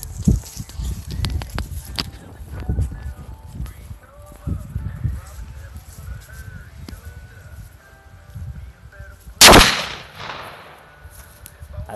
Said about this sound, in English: 20 gauge slug will go through a empty old fire extinguisher